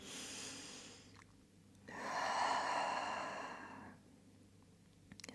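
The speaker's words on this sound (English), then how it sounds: "we're going to take about 5 deep breaths here today." Slow, deep breaths taken during a yoga session: a soft airy inhale, then a longer, fuller exhale swelling for about two seconds before fading. The breathing is close and quiet, with no talking.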